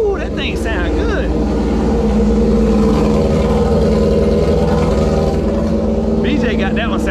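Loud, steady engine roar of a Suzuki TSXR 1000 motorcycle revving, running continuously and close, with a few brief higher bursts near the start and end.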